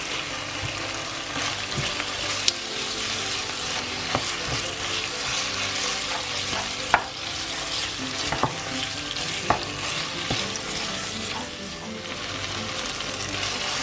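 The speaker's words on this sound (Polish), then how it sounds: "Całość, całość oczywiście dobrze mieszam i jeszcze chwileczkę podsmażę." Herring salad with tomato concentrate sizzling in a frying pan for a Kashubian Christmas Eve dish, with steady frying hiss and occasional scraping, clicking stir strokes from a spoon against the pan, close and continuous with no talk.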